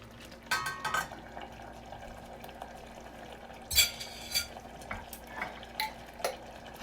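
Garlic stirred in a pan for lasagna, with soft scrapes and a few light clinks of utensil against metal over a faint low sizzle, quiet and close, no talking.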